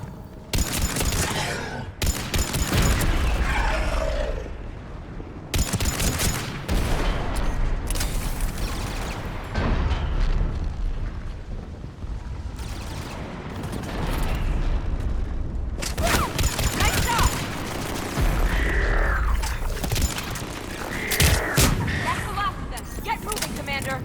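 Rapid bursts of weapon fire and heavy booms from a Mass Effect 3 firefight, coming in loud clusters separated by quieter stretches, with voices calling out over the shooting.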